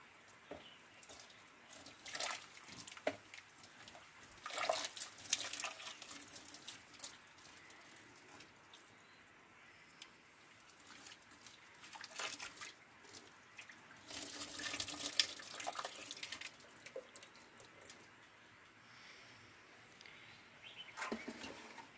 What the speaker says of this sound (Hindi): खोलता हुआ पानी डालता हूँ ये।